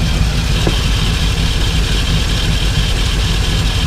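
1978 Ford Bronco with a 351M V8 idling steadily in its engine bay, a smooth, constant low rumble heard up close with no talking.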